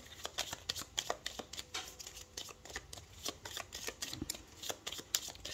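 Tarot cards are shuffled close up, giving a run of crisp, irregular riffling and slapping bursts with no talk.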